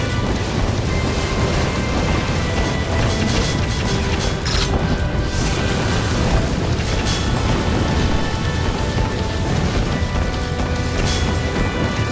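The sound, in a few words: cannons firing and explosions in Drakengard 3 video game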